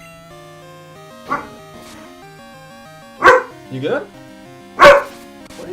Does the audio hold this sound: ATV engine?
no